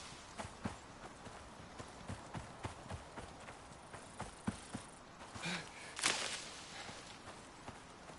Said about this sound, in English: Moas and angry horses. Can all go away.